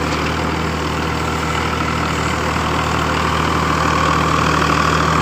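A Farmtrac 60 tractor engine drives a Shaktiman super seeder in a field, a loud, steady diesel drone with a low hum and constant mechanical rumble, unbroken and close.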